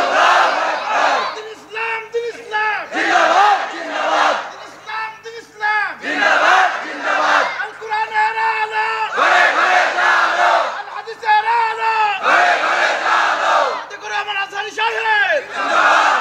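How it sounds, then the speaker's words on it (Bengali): Crowd at a Bangla Islamic religious sermon (waz) shouting the takbir in loud, rhythmic, repeated call-and-response bursts, massed voices swelling and dropping in waves. "মাশাআল্লাহ, উনি তাকবীরটা খুব সুন্দর দিয়েছেন, কিন্তু তাকবীরটা হইছে স্টেজ থেকে।"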